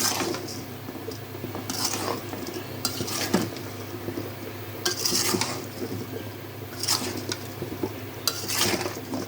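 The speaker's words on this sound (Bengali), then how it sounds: "এখন নাড়া দিয়ে দিব।" Potato and shingi fish curry with tomato being stirred in a pan, repeated scraping strokes of a spoon against metal under a low steady hum, no voices.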